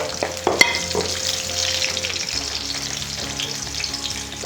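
Ginger sizzles as it is stir-fried in a pan for a vegetarian three-cup king oyster mushroom dish. The crackling, hissing fry is loud and continuous, with brief clinks and a faint hum underneath.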